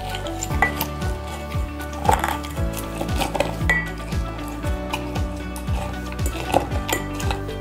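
A muddler grinds sugar in a glass for a caipirinha, giving a series of repeated scraping, knocking strokes close by, with faint clinks and no talk.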